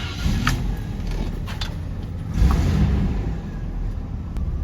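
A Jeep Cherokee XJ idles in gear with its rear end jacked up and the wheels free. The engine gives a steady, low, close rumble with a brief swell midway, and no one speaks.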